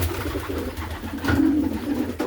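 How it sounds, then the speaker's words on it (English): Young racing pigeons coo inside a loft, soft low throaty calls rising and falling close by, with a rustle or two and no talk. "They're stunning pigeons."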